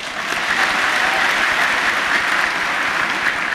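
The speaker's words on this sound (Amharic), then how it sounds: "አላነሰም ጭብጨባ።" An audience at a speech on the history of Haji Shamil breaks into loud, sustained applause, a dense continuous clapping that fills the whole stretch with no voices over it.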